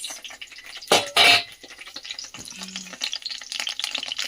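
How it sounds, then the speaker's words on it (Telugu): Green chillies fry in a pan for a gongura chutney, giving a soft crackling sizzle broken by two loud, close bursts of stirring or spattering near the start, then lighter intermittent crackle. "ఇప్పుడైతే పచ్చిమిరపకాయలు వేయించుకున్నాం"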